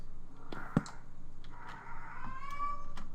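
A house cat meows once or twice over steady background hum, with a short sharp knock near the start; the cat cries are moderately loud and drawn out.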